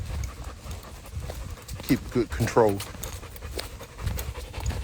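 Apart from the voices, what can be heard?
Belgian Malinois dog panting on trail walk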